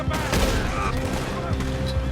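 Rapid bursts of gunfire in a shootout in the video game Red Dead Redemption 2, with dense overlapping shots and booms close up, heard under shouted voices.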